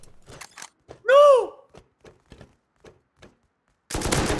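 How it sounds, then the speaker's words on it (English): Gunfire in a video game: a few short, sharp shots scattered through near-silence, one louder burst, then a dense, loud stretch of firing at the end. "Wait, is this person shooting at me?"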